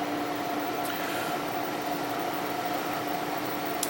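A Taotronics 6 liter dehumidifier runs with a steady, even hum and whir, a constant mechanical drone with a faint tonal whine and no talk.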